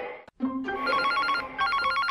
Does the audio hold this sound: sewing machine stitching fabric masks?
no